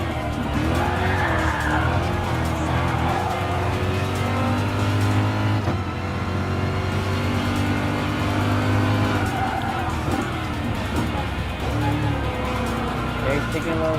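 Race car engines roar steadily in Gran Turismo Sport, BMW M6 IMSA race cars at the 24 Hours of the Nürburgring, with sustained revving and shifting pitch plus tire squeal, loud and continuous beneath a voice talking throughout.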